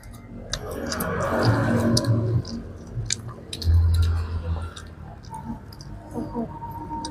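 Close, wet chewing and crunching of fried chicken (ayam goreng) at an Indonesian eatery in Majalengka, West Java, coming in irregular bursts with soft background murmur.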